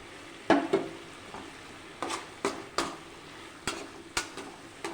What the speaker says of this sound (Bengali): এটা দিয়েও ভালো করে নাড়াচাড়া করে নেব